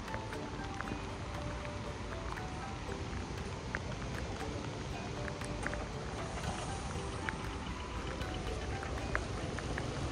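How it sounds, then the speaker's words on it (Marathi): Heavy monsoon rain near Gadheshwar dam on the Dhodani river at Panvel, a steady dense hiss filling the whole stretch with no gaps, carrying faint scattered patter and a few quiet voices underneath. "पाऊस आलाय खूप जोरात"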